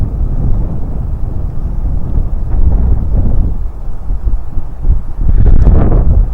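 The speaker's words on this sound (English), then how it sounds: "Let me just bring up some more wind." Wind blowing across a park, rushing as a steady loud roar of gusts and buffeting with no talk, heavy low rumble throughout.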